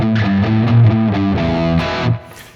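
Distorted electric guitar plays the main riff of a song through a Marshall amp with medium spring reverb, chugging chords in a rhythmic pattern that cut off near the end, loud and close.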